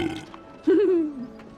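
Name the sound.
burp in Discworld video game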